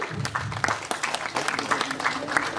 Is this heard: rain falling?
no